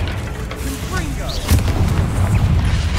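In a Harry Potter video game, the Confringo explosion spell lands with a deep rumbling boom about halfway through, over a busy hum of game sound and a brief voice.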